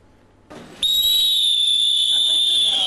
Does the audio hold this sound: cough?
no